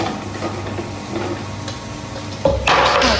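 Food sizzles steadily while frying in a pan, with a brief clatter of a spoon stirring near the end and the sizzle growing louder and brighter.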